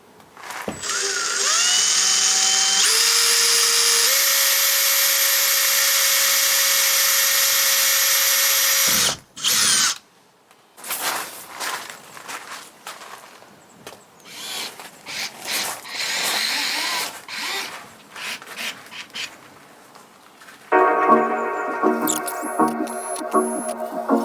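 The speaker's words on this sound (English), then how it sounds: "I'm going to add the screws, so I will drill them through here." A power drill drives screws into a power input box in a camper van, giving loud sustained whines with rising pitch, then a pause, then a stretch of rattling handling noises before a final burst.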